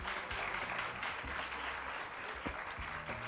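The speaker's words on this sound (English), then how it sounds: "a round of applause for Caitanya family for distributing more books" An audience at a book marathon inauguration applauds the book distributors, a faint, steady patter of many hands clapping with some low background rumble.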